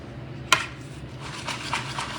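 Metal kitchen utensils clatter as a whisk is pulled from a kitchen drawer or holder, one sharp clink and then several lighter rattles close by.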